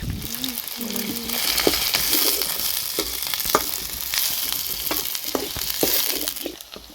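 Onions with garlic ginger paste frying in a pan, a continuous loud sizzle broken by scattered taps of a stirring spoon, with a faint voice briefly at the start.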